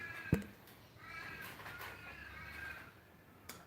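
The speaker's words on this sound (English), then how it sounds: "That would be crows." Crows call outdoors as a single sharp caw rings out near the start, followed by fainter, more distant caws and a light background murmur.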